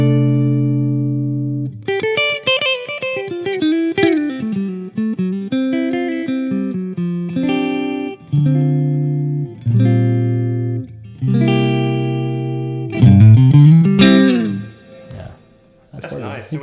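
Taylor T5z electric-acoustic guitar with the highs rolled fully down and the volume bumped, playing a series of ringing chords and single-note runs with short pauses between phrases, close and fairly loud.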